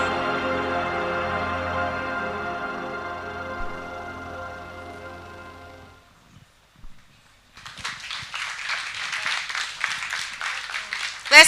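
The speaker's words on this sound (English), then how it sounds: "Let's keep clapping. Let's keep clapping." An audience at a national head girl conference breaks into applause, a dense burst of many hands clapping that swells in the second half after a stretch of sustained tone and quiet.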